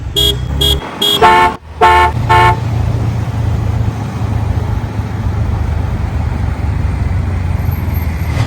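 An auto rickshaw horn honks in a few quick blasts, then a steady motor rumble and road noise carry on while riding through traffic in Ujjain.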